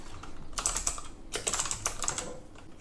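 Text typed on a keyboard while smartphone apps are being recorded, two quick bursts of light, crisp key clicks separated by a short pause, close and faint with no talk.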